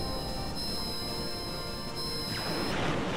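Petra Virtue spell effect from the Ogre Battle 64 video game, a shrill sustained electronic tone with layered high harmonics over crashing noise, cutting off sharply near the end.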